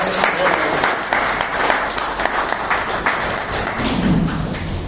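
An audience at a gathering in Ahmedabad applauds Prabhuji Patidar, a loud, dense wash of clapping that holds steady throughout with a few thumps mixed in.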